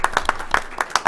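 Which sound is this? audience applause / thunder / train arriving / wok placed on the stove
audience applause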